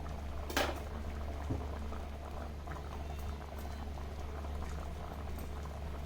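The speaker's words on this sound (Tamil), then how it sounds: "இப்போ வந்து இது அப்படியே ஒரே ஒரு நிமிஷம் மட்டும் கொதிக்கட்டும்" Bottle gourd kofta gravy bubbling steadily in a pan, a continuous low simmering patter with small pops, fairly close, no talking.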